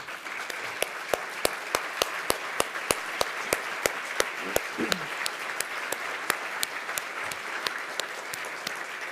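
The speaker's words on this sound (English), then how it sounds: "give you a round of applause" An audience gives board members a round of applause, a continuous crowd clapping with a few sharp, rhythmic claps standing out, and a voice briefly heard partway through.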